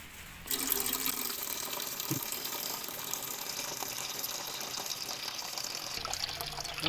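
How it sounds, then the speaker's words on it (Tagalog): Tap water pours into a cooking pot while macaroni is being prepared, starting abruptly after a brief pause and continuing as a steady splashing gush with a small clunk partway through. "Kulang yung tubig kaya dadagdagan natin."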